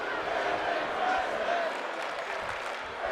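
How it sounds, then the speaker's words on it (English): A women's wrestling crowd at a university event chants and cheers in a dense, sustained roar of many voices, with the noise swelling and dipping slightly throughout. "This crowd chanting for women's wrestling, and Sophia looking to continue to punish Ku"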